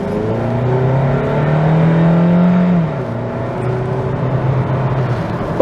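A 2022 Kia Niro PHEV plug-in hybrid accelerates hard, its engine and electric whir climbing loudly in pitch for a few seconds before easing off to a steadier cruising drone, heard from inside the car.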